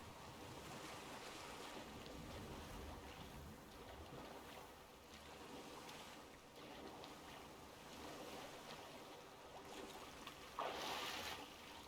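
Ocean surf and wind wash steadily in Witcher 3, a continuous soft roar of waves with a faint splash near the end, no talking.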